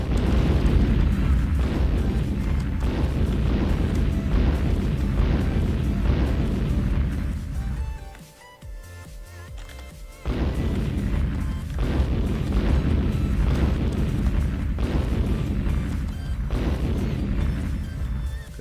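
Retro-style video game where asteroids are shot and explode, giving dense continuous booming and crashing blasts with rhythmic pulses, loud, broken by a short quieter lull in the middle.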